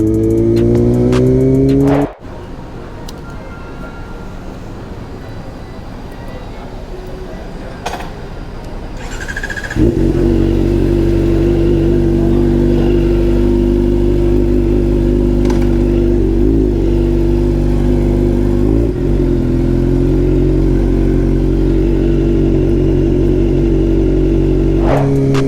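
A Kawasaki ZX-4RR 400 cc four-cylinder sport motorcycle revs up, then drops to a steady idle after a brief lull. Roughly eight seconds later a loud, sustained engine drone begins close by and holds for the rest of the clip.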